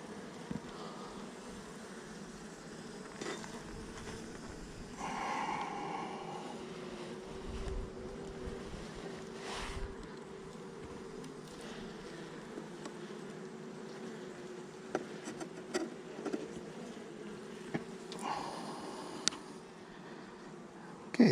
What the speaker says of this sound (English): Lots of dark bees in this hive.